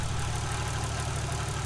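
A Toyota Cressida fitted with a 1JZ engine idles with a quieter power steering pump, giving a steady, even low drone heard up close for a brief moment.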